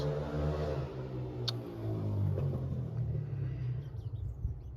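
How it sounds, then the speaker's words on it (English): A low engine rumble with rising harmonics as a motorbike goes by near a garden polytunnel, loud at first and gradually thinning out. "excuse the noise of that motorbike"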